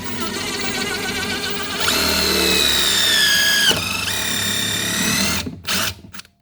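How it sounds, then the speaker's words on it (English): A power drill whines loudly as it pilot-drills screw holes into wood, its pitch sagging under load, then it stops and a couple of short bursts follow. "I'm pilot drilling every single one"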